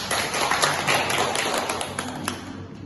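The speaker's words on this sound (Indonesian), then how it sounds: "Oke, tepuk tangan." A classroom of students claps together in a dense, fast burst of many hands that fades out after about three seconds.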